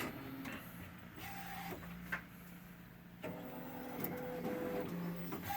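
An InkEdibles CakePro950 DTF printer runs a print job with quiet motor whirs, sliding carriage tones and short mechanical clicks that start and stop in irregular bursts, with nobody talking.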